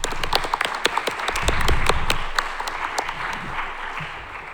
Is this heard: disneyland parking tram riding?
no